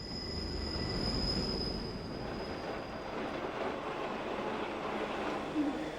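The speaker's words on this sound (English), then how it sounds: "some unusual old train engines are still in operation" Old 'baby crocodile' train engine rolling on rails near Filisur in Switzerland, a steady rumbling roar of wheels with a faint high squeal early on, continuous and fairly close without talk.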